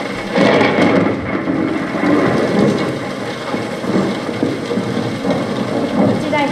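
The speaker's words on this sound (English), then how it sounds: "I hear the rain God told Noah about hitting the side of the boat" Rain drums steadily against the side of a boat, Noah's ark, mixed with low rumbles of thunder, a continuous, fairly loud wash of noise.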